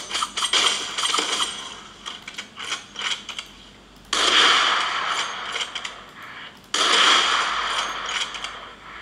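Video game sound played through the B&O-tuned speakers of an HP Victus 15 laptop with a 12th-gen i7 and RTX 3050: thin, dry mechanical clatter and sharp bursts, with two loud surges that cut off abruptly.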